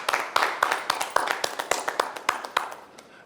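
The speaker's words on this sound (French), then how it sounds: "Applaudissez d'abord." Audience at a live entertainment show claps in a steady run of sharp, close hand claps of moderate loudness, spaced with a loose rhythm and fading slightly toward the end.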